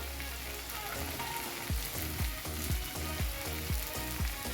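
Tomato masala fries in a pan with chili powder and Kashmiri chili powder, a steady close sizzle broken by a regular rhythm of stirring strokes.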